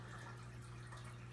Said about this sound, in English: If you guys hear water in the background, that is my turtle aquarium.